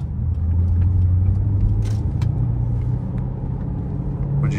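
A 2010 Maserati Quattroporte engine on a test drive, a loud steady droning rumble from inside the moving car, with the engine note holding and shifting slightly, no talk over it.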